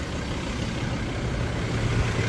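A 2019 Mazda BT-50 XT 4x4 idles with a steady, dense low rumble, close and continuous throughout with no voices.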